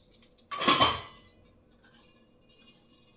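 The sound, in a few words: half teaspoon of mustard seeds added to a pan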